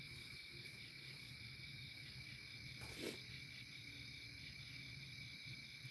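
Night crickets chirp in a steady, dense, high-pitched chorus, faint and continuous, with one brief soft rustle near the middle and no talking.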